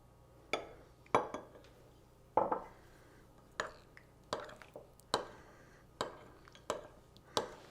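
Honey and oil being mixed together for oats granola, heard as a series of about a dozen sharp spoon-against-bowl clinks and taps in an irregular rhythm, close and fairly quiet, with no talking.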